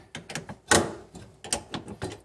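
Socket wrench ratcheting a bolt down on a Bricklin parking brake, a run of close, uneven metallic clicks and clunks with one louder knock partway through.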